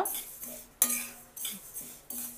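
Sesame seeds roasting in a pan for laddu, heard as a handful of sharp spatula clinks and scrapes against the metal at irregular intervals, close and fairly quiet.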